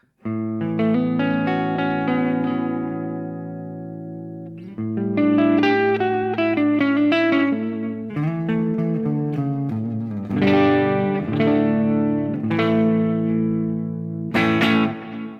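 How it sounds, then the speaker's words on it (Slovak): Clean, undistorted electric guitar played through an amp with no gain pedal engaged, ringing chords and melodic phrases with reverb and chorus-like shimmer, loud and alone. "Takto znie môj clean zvuk."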